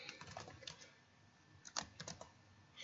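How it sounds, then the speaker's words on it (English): Quiet, irregular keystrokes and clicks on a computer keyboard come in short bursts with a pause in between while text is retyped for Minecraft map making. "actually I'll just retype it."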